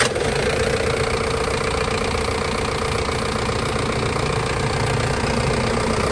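Close, continuous idle of a Japanese forklift engine, a steady mid-to-low rumble with an even knocking pulse and no voices.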